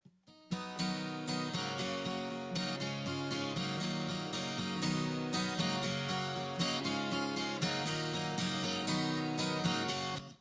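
Rhythmic double-tracked acoustic guitar strumming, full and wide, plays alone at a very even, squeezed loudness for about ten seconds, heavily compressed by an 1176-style compressor in all-buttons-in mode.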